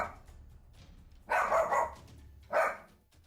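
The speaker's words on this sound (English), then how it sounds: "dogs barking at something always trips me out" A dog barks in a scary setting: two loud, separate bursts about a second apart, the second shorter, over faint background noise, with no talk.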